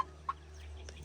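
Chickens in a coop let out a couple of short, close clucks over a low steady hum, with brief quiet gaps between calls.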